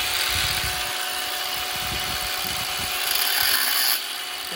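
A Parkside PWSAP 20-Li cordless angle grinder cutting through an old Soviet-era steel pipe, a loud continuous high whine with gritty grinding texture that eases off near the end, no voices.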